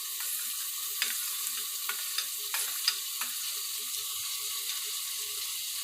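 Onion, tomato and carrot fry in a pan, with a soft, even sizzle throughout and a handful of light spatula taps scattered across it, quiet and close.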